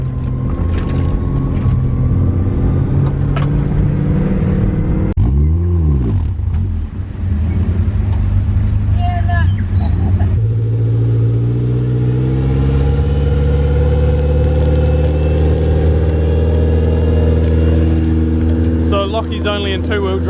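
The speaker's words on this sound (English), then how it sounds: "we're just going to winch him up this hill" A 4WD stuck in two-wheel drive with a broken CV joint is winched up a steep hill on a West Coast trail; its engine drones steadily and loudly throughout, with a brief high whine partway through.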